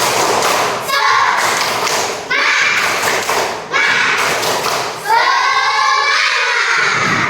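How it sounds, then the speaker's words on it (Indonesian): A classroom of children claps hands in rhythmic bursts for a cheer, with loud thumping claps mixed with shouting and chanting young voices throughout. "Ayo kawan semua bertepuk tangan."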